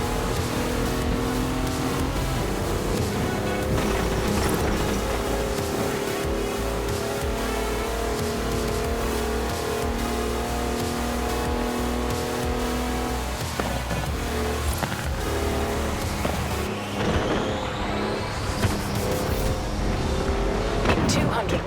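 A 340-horsepower car in the video game Forza Horizon 4 drives with a loud, continuous engine roar that rises in pitch late on, as a voice speaks over it.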